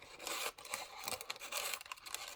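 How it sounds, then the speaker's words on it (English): Close, quiet snipping of scissors cutting paper, repeated in an uneven rhythm with faint rustling between cuts. "cut it with my scissors"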